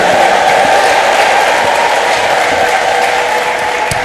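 A church congregation applauds and ululates together, a loud, steady wash of clapping and high trilling voices that fills the room throughout.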